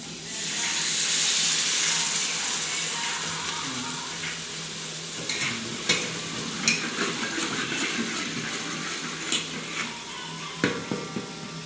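Paneer curry gravy sizzles and fries in a pan, with a steady hissing bed and intermittent scraping clicks of stirring, close and moderately loud, no talking.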